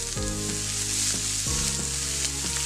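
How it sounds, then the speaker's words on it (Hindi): Green chili and curry leaves sizzle loudly in hot oil in a pan, a dense steady crackle with stirring scrapes, prepared for a Navratri fasting breakfast; no talking. "इसके साथ ही हम इसमें डालेंगे करी पत्ता, 8-10 करी पत्ते डाल देंगे।"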